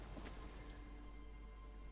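Steady rain falls in the video game Disco Elysium, a soft, even hiss that stays constant and fairly faint from start to finish, with a low rumble beneath it and no talking.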